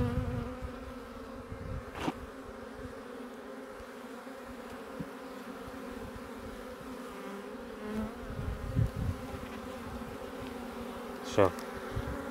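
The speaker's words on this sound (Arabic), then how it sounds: "النحل ما شاء الله يلتهم العسل." Honey bees buzz steadily inside an opened beehive during a winter colony inspection, a continuous close hum with a few louder passes of single bees near the listener, no talking.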